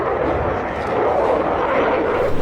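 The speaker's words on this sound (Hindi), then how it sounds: "Rafale fighter jet." A Rafale fighter jet flying, a steady broad engine roar holding at constant loudness throughout, with no talk over it.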